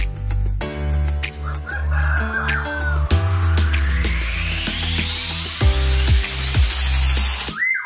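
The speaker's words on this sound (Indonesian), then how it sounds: "Ayam pelung, memiliki nama latin Gallus radiatus adalah salah satu jenis ayam hias yang memiliki suara yang merdu" A Pelung ornamental chicken crows loudly and up close in long, drawn-out melodic calls, with further clucks and fowl sounds around it.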